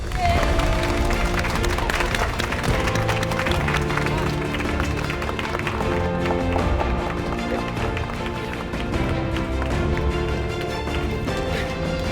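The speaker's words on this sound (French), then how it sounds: "Donc on peut applaudir Antonia Auvergne-Rhône-Alpes" Audience applause for Antonia, winner from Auvergne-Rhône-Alpes, at the final of a family-recipe cooking competition; a sustained, dense crowd clapping over background music with some voices mixed in.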